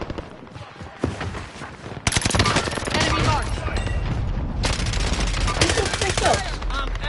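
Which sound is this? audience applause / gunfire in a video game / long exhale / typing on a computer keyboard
gunfire in a video game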